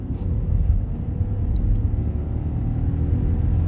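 A 1.0-litre Seat Leon engine hums with a steady, heavy low rumble throughout while climbing a mountain road uphill in -11 degree cold, heard from inside the car with no clear revving.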